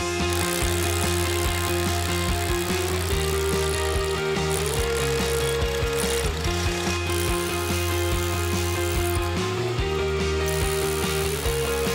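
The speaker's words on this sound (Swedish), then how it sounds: "Frågan är om jag kan komma åt med borrmaskinen från det hållet." A power drill bores into rock, running loud and continuously with a hammering, ratcheting rattle and shifting pitch as the load changes, no voices.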